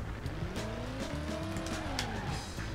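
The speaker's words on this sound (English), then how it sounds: "I heard the engine revving" A car engine revs in the PC racing game Driver, a rising and falling whine with tire squeal mixed in, steady and fairly quiet throughout.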